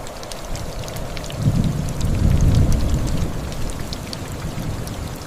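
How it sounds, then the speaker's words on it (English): First rains falling on the Bolivian Altiplano, a steady wash of rain pattering on the ground with a low rumble of distant thunder swelling in the middle, no voices. "when the first rains arrive on the Bolivian Altiplano, the cycle begins again"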